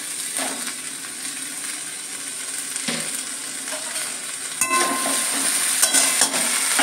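Chopped vegetables and drumstick flowers frying in a pan for a poppy-seed curry: a steady close sizzle with light clinks and scrapes of stirring, growing a little louder and busier partway through.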